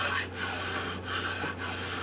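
A pillar file rasps across the damaged side of a Gibson J-15 guitar, close and steady in three rhythmic strokes over a low constant hum, with no talking.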